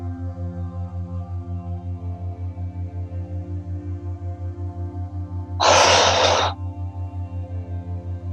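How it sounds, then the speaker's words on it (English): A single slow breath, drawn in and let out in a guided breathwork session, stands out clearly for about a second over a steady humming music bed. "Breath in, and flow out with that exhale."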